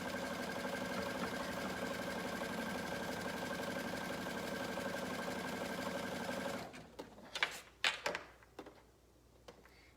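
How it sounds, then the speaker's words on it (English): A sewing machine zigzag stitching along the folded edge of a fabric hem, a steady close mechanical whir for several seconds that stops abruptly, followed by a few handling clatters. "You could hem using your cover stitch, or you can hem with a zigzag just like I'm doing."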